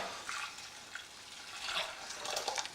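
Filtered water pouring into a pot for porridge, a soft, irregular splashing stream that swells and fades over a few seconds, fairly quiet and close with no talking.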